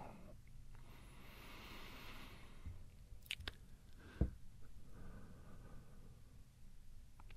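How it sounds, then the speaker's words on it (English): Bone crunches in a werewolf story audio drama, set as soft wet chewing and squishing over a hushed noisy background, with one sharper crack near the middle. "Silence except for the crunch and crunch and crunch of bone."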